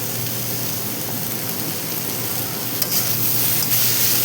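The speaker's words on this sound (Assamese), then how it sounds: "ভাতকেৰেলা আলু ভাজিম এনেকৈ" Bitter gourd and potato slices fry in a pan with a steady, dense sizzling hiss that holds close and even throughout, with a few brighter crackles near the end and no voices.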